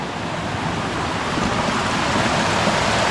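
Water pours from a leaking sluice gate on a woodland stream, a close, steady broadband rushing and splashing that holds an even level throughout with no talk.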